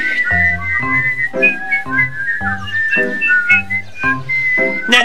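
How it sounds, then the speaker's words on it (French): Cartoon characters whistle in place of speech, giving a lively run of bright, warbling, melodic whistles over a steady musical accompaniment, with no spoken words. "Alors à partir de maintenant, au lieu de parler, nous sifflons."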